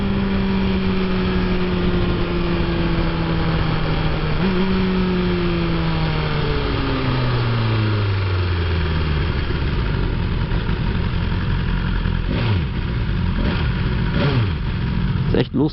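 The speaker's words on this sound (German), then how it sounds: "So, jetzt mal schön die Gänge runterschalten." A 2019 BMW S1000RR superbike's engine, heard close and loud, drops through the gears. The revs fall in stepped stages with brief blips between shifts, then a few sharp throttle pops near the end.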